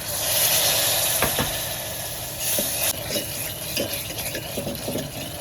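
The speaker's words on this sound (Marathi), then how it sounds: "मस्त तेल सुटेपर्यंत भाजून घ्यायचं" Steady sizzling of masala frying in hot oil, with occasional stirring scrapes and clinks of a utensil against the pan.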